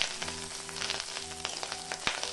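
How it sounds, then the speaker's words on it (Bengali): Fish roe being stirred and broken into small pieces with a spatula as it fries in a kadai, giving a steady close sizzle with occasional scraping clinks and one sharp knock near the end. "তাই ঢাকা খুলে এখন আমি নেড়ে চেড়ে মাছের ডিমটা ভেজে নেব।"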